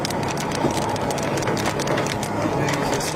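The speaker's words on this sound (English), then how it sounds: "How big is this hail?" Hail pelts down during a tornado chase, a dense, loud, steady clatter of stones striking surfaces close by.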